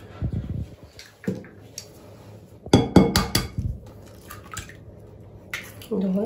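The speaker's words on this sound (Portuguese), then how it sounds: "Eu vou bater aqui 4 ovos." Eggs are cracked one after another against the rim of a bowl, a few sharp close knocks and clinks spaced out over several seconds, with quiet pauses between them.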